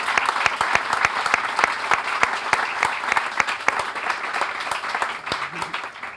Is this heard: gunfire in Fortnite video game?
no